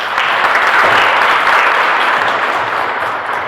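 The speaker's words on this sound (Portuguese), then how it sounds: "saudemos-nos dentro do apostolado da oração com a calorosa salva de palmas" Congregation at a Catholic Mass giving a warm, sustained round of applause, loud and continuous from start to finish in a reverberant church, with no talk.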